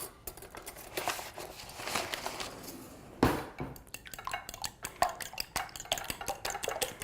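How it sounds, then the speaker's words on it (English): A fork whisks eggs in a bowl, giving quick clinking, scraping strokes against the dish, close and moderately loud, with a brief sharper knock partway through and no talking. "I'll use a fork to just whisk the eggs"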